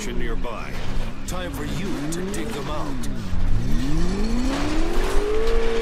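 A car in Crackdown 2 driving with a rising engine whine that climbs steadily in pitch as it accelerates, loud and close, with talk overlapping the engine.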